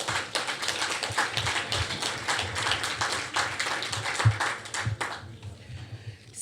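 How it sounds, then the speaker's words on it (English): Audience applause in a conference room at a plastic pollution event, dense overlapping clapping sustained throughout at moderate distance, tapering off toward the end. "Give them a big round of applause."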